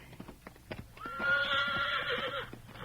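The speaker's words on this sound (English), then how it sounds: "Nice-looking horse you got there." A horse gives a loud, drawn-out whinny that rises and holds for about a second and a half, preceded by a few scattered hoof clops and thumps nearby.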